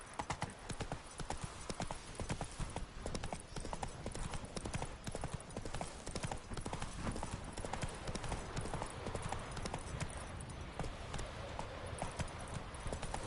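A horse galloping in The Witcher video game, a fast, dense drumming of hoofbeats that runs steadily without pause, fairly faint under background game sound.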